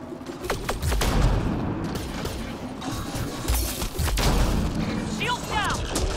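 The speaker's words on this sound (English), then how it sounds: "that's why we've got sticky grenades" Sticky grenades go off in Mass Effect Andromeda gameplay, a few loud sharp blasts and crashes amid ongoing gunfire and combat noise.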